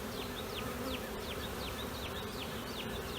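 A swarm of honey bees buzzes around a nuc hive set in brush and hedges outdoors, a dense continuous hum with many individual bees zipping past close by, steady throughout without any voices.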